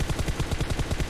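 Rapid automatic gunfire from a team deathmatch video game, a steady fast-paced string of shots at even rhythm, loud and continuous with no voices.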